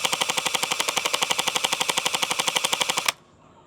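A fake Gel Blaster Surge gel ball blaster, the Scourge, fires on full auto in a loud, very fast, evenly spaced stream of snapping shots that runs about three seconds and then stops abruptly, leaving quiet.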